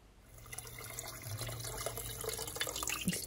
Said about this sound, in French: On va ajouter de l'eau,